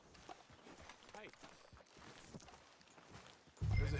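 A horse's hooves clip-clop at a slow walk in Red Dead Redemption 2, faint and soft under characters talking, ending with a louder thump.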